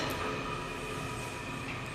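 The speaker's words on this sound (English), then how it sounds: "There's another 7000 series train." A WMATA 7000 series metro train rumbles at Union Station in Washington DC, a moderately faint, steady low roar with a thin high whine running through it.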